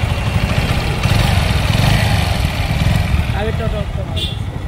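A 160cc four-valve motorcycle engine idles steadily with a rough, even rumble, and voices talk faintly over it.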